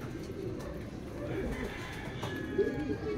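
Racing pigeons coo softly in a loft as birds return from a race, low gentle burbling calls, faint and continuous, with people talking nearby.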